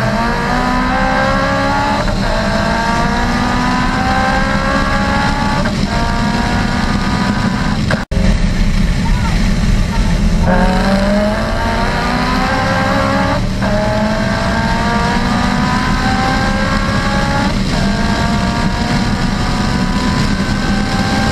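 Chevrolet Camaro ZL1, Ford Mustang and Honda cars racing, loud engines revving hard through repeated upshifts with rising whines that drop and climb again, close and continuous with no talk.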